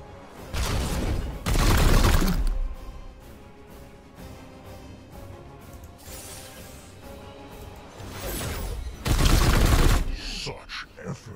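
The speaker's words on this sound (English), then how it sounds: "Support fire will teach you a lesson." Support fire in Warhammer 40k: Chaos Gate - Daemonhunters: loud bursts of gunfire and impacts in clusters near the start and again near the end, with a quieter stretch between them and a voice speaking.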